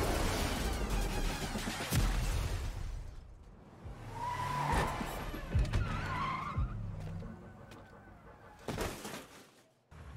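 Cars skid and swoosh through the Fortnite cars trailer, tire squeals and whooshing passes layered over game music, with a few sharp hits and a fade at the close.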